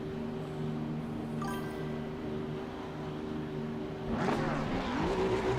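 A race car engine in the racing video game Assetto Corsa EVO idles with a steady hum, then revs up sharply and roars as it accelerates away from a race start, loud and close.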